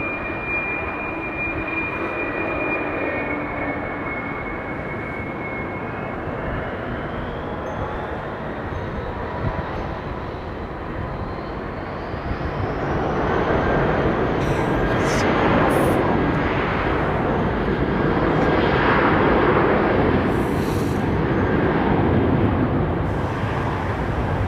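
A Kuwait Airways airliner lines up on the runway at London Heathrow, heard from a distance as a steady jet engine roar that swells partway through and holds.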